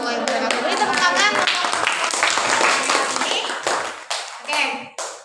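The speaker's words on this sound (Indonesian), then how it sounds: "Beri tepuk tangan" An audience claps at a school teaching-performance assessment in a classroom, a busy scatter of hand claps with children's voices talking over it, the clapping thinning out toward the end.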